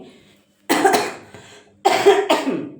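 Two separate coughs from a person indoors, each a sharp burst followed by a short tail, with a brief quiet gap between them and no talking.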